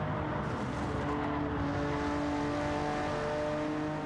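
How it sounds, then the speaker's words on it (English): Race car engine in Gran Turismo 7 holding a steady, sustained drone with slight throttle variation, loud and continuous, heard from an onboard perspective with no talk over it. "You can hear him throttling just a little bit, so those tires are, man, cooking on him"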